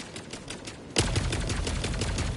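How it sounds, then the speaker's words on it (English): The Scorcher gun in a video game opens up in sudden rapid automatic fire, loud and close, a dense burst of shots continuing after a quiet lead-in with faint rhythmic sounds. "the Scorcher is such a good weapon. It can take out these objectives from a distance and in less than 2 magazines"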